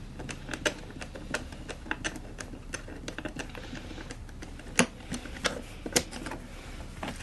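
A flathead screwdriver works a metal flathead screw loose on a Kipor IG1000P inverter generator, giving a close series of small, irregular clicks and scrapes with a few sharper ticks and no talking.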